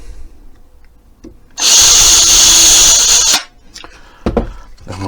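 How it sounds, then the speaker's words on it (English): A power drill whirs loudly and steadily for about two seconds, then stops, with softer clunks and handling noises around it. "we'll drill 2 holes"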